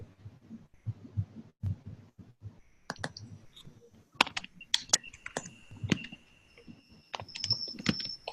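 A computer mouse clicking in quick, sharp clusters, at first under soft low rumbles and then louder and more frequent, with faint electronic tones in the background.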